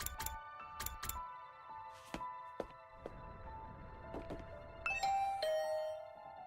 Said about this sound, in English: I rang the doorbell and could hear the bell ring on the other side of the door.